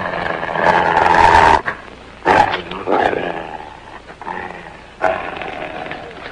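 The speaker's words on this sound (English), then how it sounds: "That's a dog." A dog growls and snarls up close in bursts of deep, rough rumbling broken by short pauses, loud over a western film soundtrack.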